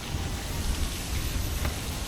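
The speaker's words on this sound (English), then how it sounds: "And it's starting to rain just to add more ambiance." Steady rain falls outdoors at an open-air museum, a dense continuous patter of drops that sounds close and fairly loud, with no one talking.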